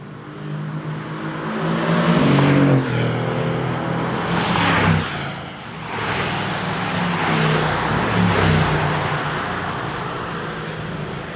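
A Mercedes-AMG GT S engine roars steadily as the car accelerates, with loud continuous revving rising and easing across two pulls and no talk.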